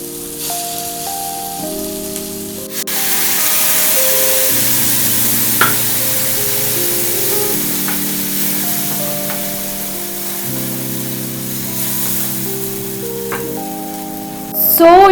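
Fish being fried with ground masala in a pan, a steady close sizzle and hiss with stirring, over a sustained music-like tonal background and no talk.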